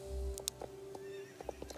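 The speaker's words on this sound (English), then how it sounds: "So, that was a whinny right there." A horse whinnies in the video game Star Stable: a short, bright neigh stands out clearly against a quiet, steady background hum, with a few soft hoof clops around it.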